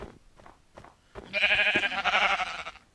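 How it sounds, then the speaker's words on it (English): After a few soft thuds, a single loud, wavering sheep bleat from a video game sounds close by for over a second, with no talking. "Come here, sheep."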